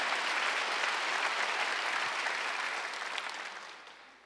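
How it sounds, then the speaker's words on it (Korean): Church congregation at a Sunday worship service applauding, a dense, steady wash of many hands clapping at a moderate distance, fading slightly toward the end, with no talk over it. "빨리 박수해."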